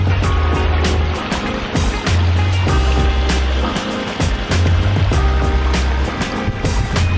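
Water pouring from two waterfalls into a backyard pond, a steady, close, rushing splash with irregular surges and no voices.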